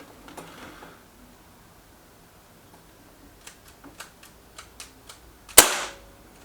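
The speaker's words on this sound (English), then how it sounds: "I just don't know when the gun's going to fire" Beeman 1357 air pistol firing pellets: a string of small sharp clicks and snaps, then one louder crack near the end, all up close in a quiet room.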